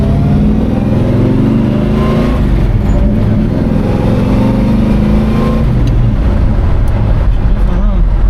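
A 1970 Chevelle's engine pulls loudly from inside the car on a test drive, a deep rumbling drone rising and shifting as it accelerates in gear, steady throughout.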